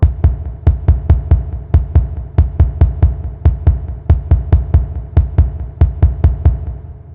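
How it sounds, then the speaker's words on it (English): A kick drum thumps in a fast, slightly uneven rhythm from the Sprunki game, each hit a loud, deep, punchy beat with a brief tail, heard alone with no talk. "The musical type? Kick drum."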